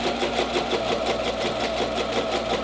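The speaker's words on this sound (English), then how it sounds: "I'm gonna stitch at a 5/8 seam allowance right along this edge here" A sewing machine runs steadily, stitching a jacket facing along a 5/8 seam allowance with a regular-length back stitch, a continuous close mechanical whir with a fast even rhythm.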